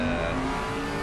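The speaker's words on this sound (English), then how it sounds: "Listen to those little rumbles coming out of that exhaust. The Bentley and the Merc." Bentley and Mercedes GT3 race cars roar loudly and close, their exhausts giving a deep, steady rumble over a short stretch.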